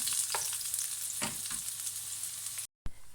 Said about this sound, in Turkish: Şimdi kırmızı biberlerimi attım içine. Birlikte çeviriyorum bir daha.